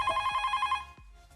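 A household telephone bell rings in a rapid trilling burst under a second long, then cuts off into near quiet with a couple of soft knocks.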